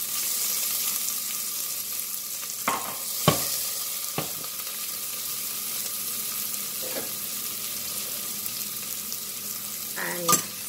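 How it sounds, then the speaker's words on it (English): Chopped onions and okra sizzle in hot oil with a steady hiss, while a utensil scrapes and knocks against the pan several times. "To this, I'm just going to add a handful of onions,"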